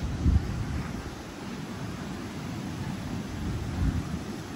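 Strong wind at the sea during a typhoon buffets the microphone in a steady low roar, with gusty swells and a faint broadband hiss like surf in the background, on the coast of Barroc, Tigbauan.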